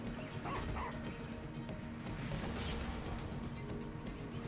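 A hostile dog in the Divinity: Original Sin Enhanced Edition role-playing game barks and yips in combat, mixed into dense, loud battle noise and game sound.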